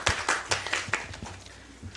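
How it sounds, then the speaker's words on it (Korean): One person claps their hands at a political party committee meeting, a brisk run of about eight quick, fairly faint claps that slow and fade toward the end. "이건 제가 박수를 치겠습니다."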